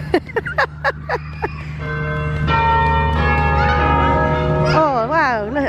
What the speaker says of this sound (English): You hear the lovely bells?